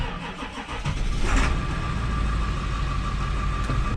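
A 7.3 Powerstroke diesel in a Ford F-250 pickup cranks over and catches, then settles into a steady, loud idle close by.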